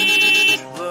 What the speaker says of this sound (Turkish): Yeni kornaları test ediyoruz arkadaşlar.